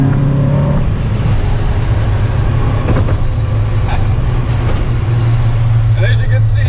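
Car cruising along an open country road in the Netherlands in autumn, a constant loud road and engine rumble with steady tire noise throughout, a few faint clicks near the end.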